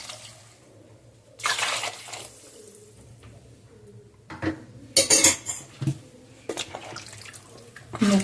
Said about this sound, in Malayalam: ഇനി നമ്മൾക്ക് കുറച്ചധികം വെള്ളം ഇട്ടിട്ടൊന്ന് വേവിക്കാൻ വെക്കാം